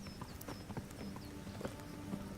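A horse gallops in Kingdom Come Deliverance, rapid hoof clip-clops drumming close and fairly quiet, with a few high bird-like chirps over the top.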